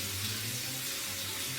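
Hot water runs steadily from a kitchen tap during bread making, a constant close hiss of flowing water with a faint hum beneath and no talk.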